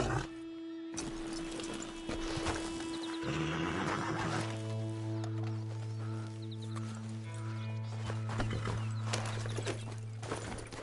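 A horse in Red Dead Redemption II whinnies and snorts loudly over a background of sustained tonal game music and ambience, with hoof movement blended in throughout.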